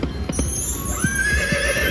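A horse neighs amid slot-machine game audio from the Dollar Storm video game, a whinny with clip-clop hoof sounds layered over the machine's chiming music.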